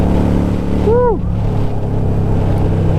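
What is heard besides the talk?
Harley-Davidson Sportster cafe racer motorcycle being ridden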